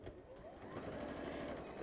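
A borrowed sewing machine stitches a quilt in a steady, rapid mechanical whir with a regular stitching beat that runs throughout at moderate volume.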